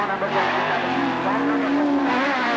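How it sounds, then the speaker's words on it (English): Rallycross cars roar loudly with rising and falling revs at Lydden Hill in 1985, tires squealing, a commentator's voice running over the noise. "a very well-deserved lead here for Warwick Barnes as he comes through in car number"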